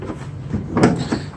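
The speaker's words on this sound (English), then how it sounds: "Doors swing out all the way." The rear doors of a 2017 Ford Transit van swinging open: a short sequence of light creaks and a soft metallic clunk, close by.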